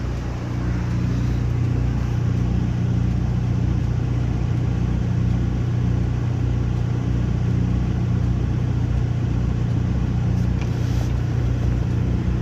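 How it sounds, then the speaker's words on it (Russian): A large truck driving along a road without stopping beside a car parked with its hazard lights on; a continuous heavy engine rumble, loud and steady throughout, with no voices. "Большой груз проехал, тоже не остановился."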